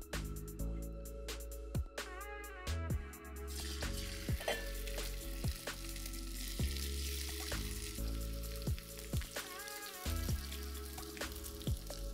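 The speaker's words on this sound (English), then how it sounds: "the oil has heated up. Time to fry the chicken." Chicken pieces fry in heated oil with a dense, continuous sizzle and crackle, punctuated by regular sharp clicks and taps of stirring, close up and without talk.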